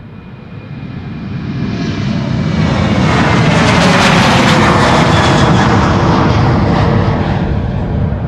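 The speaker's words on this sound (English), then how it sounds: "KLM flight 1955 up next, going to Athens, 737-800." A KLM Boeing 737-800 jet, about 16 years old, departs Schiphol Airport on a flight to Athens. Its engine roar swells quickly from near the start into a loud, broad, sustained rumble that holds through the end, with no voices over it.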